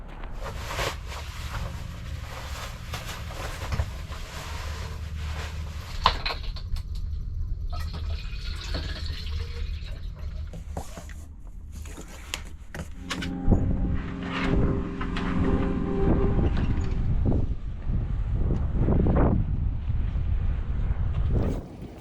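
Wind gusting across a sunny Alaska beach, a loud, rough, continuous rumble of buffeting air that swells and fades and grows stronger toward the end, with no talk.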